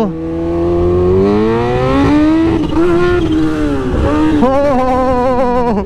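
A Kawasaki H2 Carbon motorcycle accelerates hard at full throttle on a highway, a loud close engine scream rising in pitch through the gear with a brief dip at the shift before climbing again, and a short spoken exclamation.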